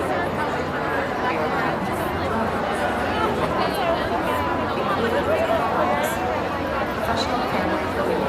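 Dense crowd of fans queuing in line outside a stadium entrance, a steady, loud wash of overlapping chatter and babble with no single voice standing out.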